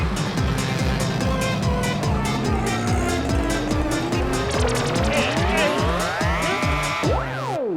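An auto rickshaw racing and skidding to a halt in a comedy scene: a loud, continuous engine roar with squealing tires, rising and wavering in pitch as the vehicle skids to a stop.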